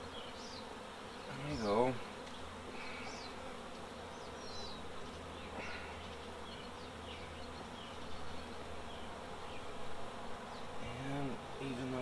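Honey bees buzz steadily around an open hive during an inspection, a dense continuous hum with a few louder passes close by, while a person speaks briefly over it.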